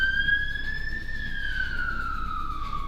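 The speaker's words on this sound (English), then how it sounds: "it's actually an ambulance." An ambulance siren passes outside, a loud steady wailing tone that rises and then slowly falls in pitch as the vehicle goes by, ringing alone over a low rumble of background noise.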